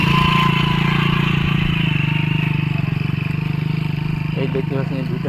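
Two motorcycles idle and are shuffled backward at a brick kiln site, a steady close engine drone with rhythmic mechanical clatter running throughout, overlapped by talking voices.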